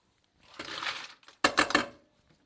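Ice emptied from a cocktail shaker into a sink: a short clattering rattle of cubes, then a second sharper burst of ice tumbling out, close and otherwise quiet.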